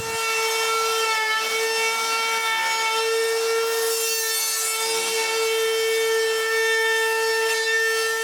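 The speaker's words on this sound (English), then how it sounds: "Next, I put a round over on all the edges." A router rounds over the edges of a cedar patio table, a loud sustained high-pitched whine holding a steady pitch throughout, with the grinding rasp of the bit cutting into the wood beneath it.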